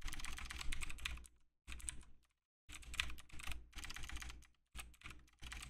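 Steady bursts of computer keyboard typing with short pauses between runs, fairly close and alone with no voices.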